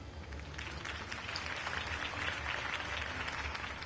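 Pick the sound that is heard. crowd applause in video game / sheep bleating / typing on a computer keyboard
crowd applause in video game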